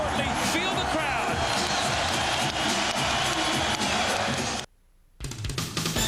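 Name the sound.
basketball arena crowd cheering after a dunk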